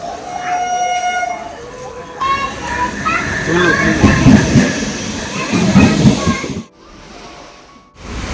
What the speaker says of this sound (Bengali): আমাদের ট্রেনটাও চলে এসেছে